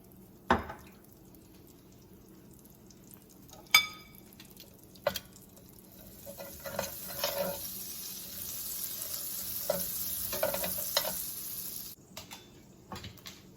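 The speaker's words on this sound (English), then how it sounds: "now to our skillet, I'm going to add 1 tablespoon of butter, along with a little bit of olive oil" Butter and a little olive oil sizzle softly in a skillet, a steady low frying hiss with a few sharp clinks and pops, fairly quiet and close, no talking.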